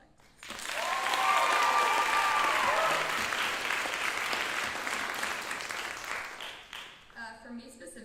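An audience at a school closing convocation bursts into applause, swelling quickly into a sustained, full clapping wash, with a voice and a few whoops mixed in, then tapering as speech resumes.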